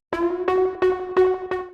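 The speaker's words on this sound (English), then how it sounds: "So the pluck layer without effect sounds like this." Dry synth pluck layer from a progressive house drop, unprocessed: five even, bright plucked notes on one pitch in steady rhythm, close and clear with no talking.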